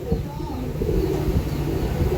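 Domestic pigeons kept for sale cooing close by in a loft, low throaty rolling coos with a voice talking over them.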